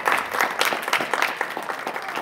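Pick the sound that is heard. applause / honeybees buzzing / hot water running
applause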